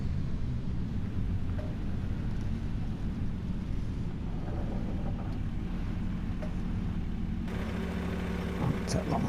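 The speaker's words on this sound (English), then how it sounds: "I'll turn the engine off for this." Low steady drone of a farm vehicle engine idling in Farming Simulator 25, a continuous rumble throughout that changes slightly near the end, with someone talking over it.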